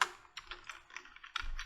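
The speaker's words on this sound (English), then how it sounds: "So we have to type it here" Fingers type on a computer keyboard in a quick run of close, crisp key clicks with uneven spacing, heard alone.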